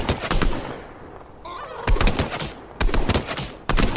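Shots fired at a llama in Fortnite, four sharp loud bursts spaced roughly a second apart, with quieter game sounds and a brief chirpy tone between them.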